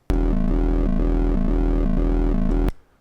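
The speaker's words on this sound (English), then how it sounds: "I've got the pretty standard audio LFO set up down here" A Bastl Kastle synthesizer plays a loud, buzzy tone cycled by an audio-rate LFO, pulsing in a steady repeating pattern before cutting off abruptly near the end.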